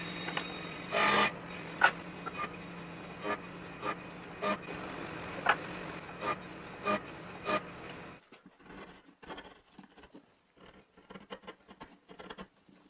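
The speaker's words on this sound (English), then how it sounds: "I've got the flywheel protruding into the base a little bit, so I need to cut a slot right here for that." A slot is cut into a wooden base for a small air engine, a steady rasping saw-like scrape with regular strokes for about eight seconds, then quieter scattered scratches and taps, all close by.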